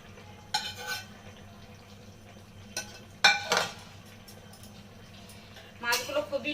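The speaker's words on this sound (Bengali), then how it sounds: "মাছগুলো খুবই নরম, ওর জন্য আমি আলতো করে নেড়ে দেবো একটু।" Soft poya fish with fried eggplant is gently stirred in a pan, with a few brief scraping and clinking strokes of a utensil over a quiet low background.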